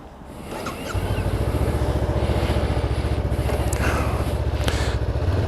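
A 2019 Honda CBR500R motorcycle engine catches about a second in and settles into a loud, close, steady throbbing idle that runs to the end, with no talking over it.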